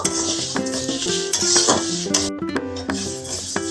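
Moong dal being dry-roasted on a gas stove with a bay leaf, stirred steadily in the pan with continuous close scraping and rasping of the spoon over a faint sizzle; no voices.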